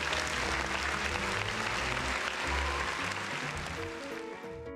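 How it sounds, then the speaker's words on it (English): Sustained crowd applause, a thick continuous wash of clapping held at an even level throughout, tapering faintly at the very end. "Applause for perfectly calculated timing."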